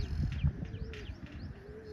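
Pigeons outdoors give low cooing calls with brief chirps through the two seconds, fairly near, over a steady low background hum.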